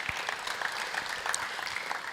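An audience claps at a workshop, a continuous patter of many hands at moderate loudness with a faint voice underneath.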